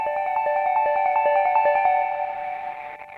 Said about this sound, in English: I have one other little synth filler thing.